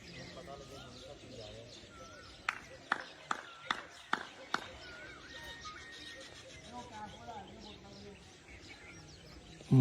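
Pigeons on a Kharian rooftop emerge from their coops for a 105-pigeon flying contest, chirping and cooing through a busy outdoor background, with a quick run of sharp wing claps in the middle and someone talking over it.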